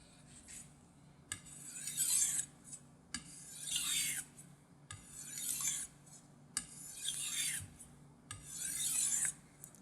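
A sharpened knife edge is drawn lightly through wood to strip the burr after waterstone sharpening, giving five slow, soft rasping strokes at regular intervals, close and quiet with short pauses between.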